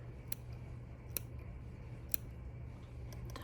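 Scissors make tiny snips trimming the fur on a mink teddy bear's muzzle, three or four faint, sharp clicks spread over a few quiet seconds.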